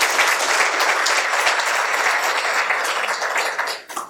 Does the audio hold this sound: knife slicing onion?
no